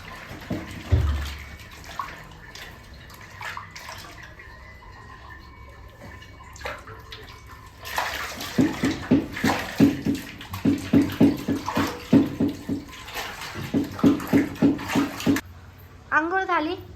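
Water splashes and pours in repeated bursts as a cat is bathed at home, fairly close, with people talking over it throughout.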